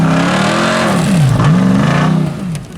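A Ram TRX truck revs hard while trying to crush cars, its loud, close engine climbing, dipping sharply and surging again before easing off at the end, with no talking.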